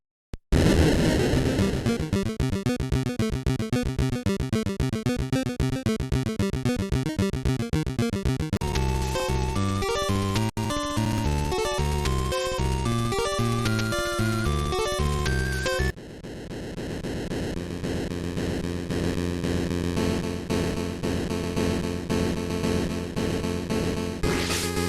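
Harsh, buzzy chiptune music from the Animorphs Game Boy Color game plays continuously through several different tracks, with dense, grating square-wave tones and noisy rhythmic patterns, loud and unaccompanied by speech.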